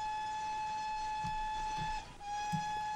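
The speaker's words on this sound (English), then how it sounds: "if I just hold down the whistle" The steam whistle of a GWR Class 14xx locomotive in Train Simulator 2017 holds a long, steady high-pitched note, briefly dips and wavers near the end, then resumes.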